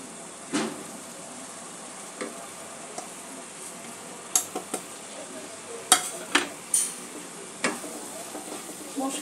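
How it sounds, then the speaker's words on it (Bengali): Spices fry in a pan over a low-to-medium gas flame, giving a soft steady sizzle while a spoon scrapes and clinks against the pan in several sharp, irregular taps. "মশলাগুলো একটু ভালো করে কষে নেব।"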